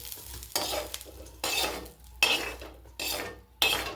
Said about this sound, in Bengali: সোয়াবিনটা এর মধ্যে দিয়ে ভেজে নেব।